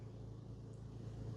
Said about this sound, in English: You can hear my air conditioning unit in the background